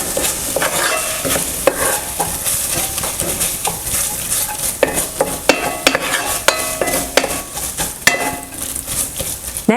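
A spoon stirs chili ingredients with tomato paste in a hot pan, scraping and knocking against the metal in irregular strokes over a continuous sizzle of frying.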